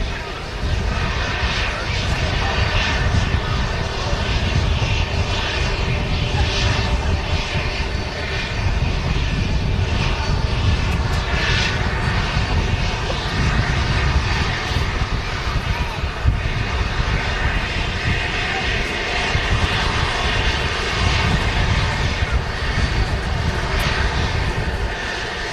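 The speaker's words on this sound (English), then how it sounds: "TUI Dreamliner is now ready to go." TUI Boeing 787 Dreamliner at Manchester Airport, engines producing a steady, loud, continuous roar that holds at an even level throughout, with faint voices underneath.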